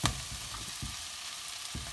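Courgette fries in a pan with softened onions, a close, even sizzle with soft crackles and a few light stirring knocks, with no voices.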